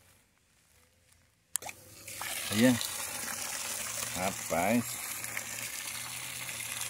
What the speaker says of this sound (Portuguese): Vamos tentar ligar aqui para ver se sai água boa.